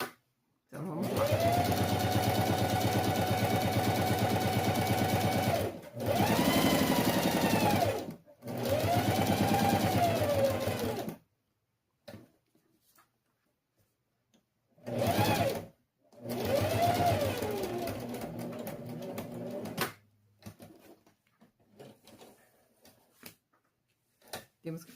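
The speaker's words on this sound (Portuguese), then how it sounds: "A gente faz essa costurinha para segurar o forro aqui." A sewing machine stitches lining onto a fabric case in several loud bursts of rapid whirring, separated by short pauses, heard close up with no talk.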